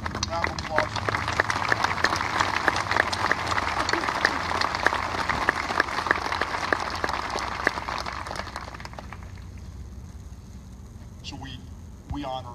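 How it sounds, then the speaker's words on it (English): An outdoor twilight memorial ceremony crowd gives a round of applause, dense steady clapping that fades after about nine seconds into quiet, followed by brief rustling. "Round of applause. For them."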